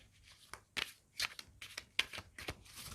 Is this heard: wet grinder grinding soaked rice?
no